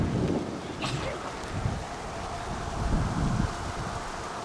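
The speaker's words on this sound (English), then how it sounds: "It's cold and windy for us right now." Strong wind buffets the microphone in a steady, roaring rush in cold weather at Yellowstone or Grand Teton National Park, with low gusty rumbles rising and falling throughout.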